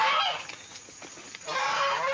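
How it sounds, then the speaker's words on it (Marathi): Village chickens cluck and squawk in a noisy, steady jumble of calls, loud and close, dipping briefly in the middle before rising again. "कोंबडीला अंड्यावर बसवतोय."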